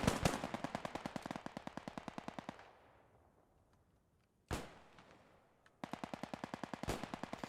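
Gunfire in the Post Scriptum war game: loud rapid bursts of machine-gun fire, a pause with only distant ambience, a single sharp shot, then another long automatic burst and a final crack.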